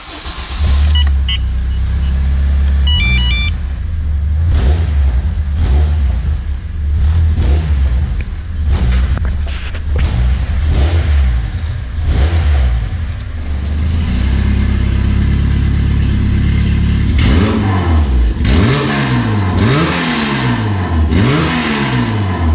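A car engine revs loudly and closely with the exhaust cutout closed, with repeated throttle blips and rising, falling sweeps toward the end.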